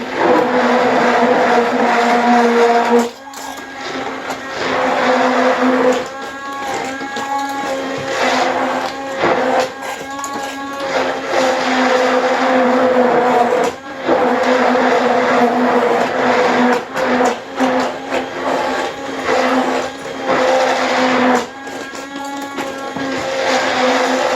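Power mixer churning a mix in a bucket tilted into the corner, a loud steady motor whine with a low droning hum that surges and dips as the blade works, close and continuous without talk.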